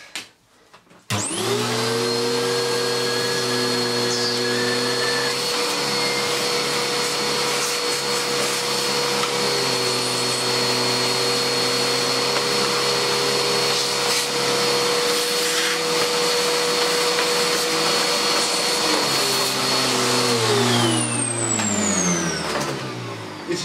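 A vacuum cleaner with a worn drive belt runs loud and steady at close range, its motor whine holding an even pitch before winding down at the end.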